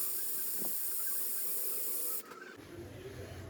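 A pressure cooker on a home kitchen stove vents steam in a steady, loud, close hiss while cooking a wild vegetable dish, then cuts off abruptly and leaves softer low background noise.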